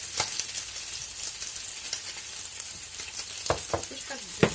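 Salmon frying on a griddle as it releases its oil, a continuous close sizzle with occasional crackles and spatula taps that grow busier toward the end.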